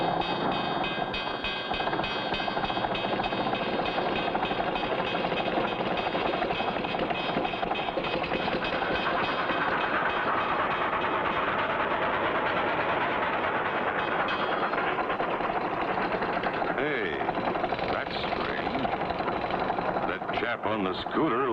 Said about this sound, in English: Uh-oh, train's coming.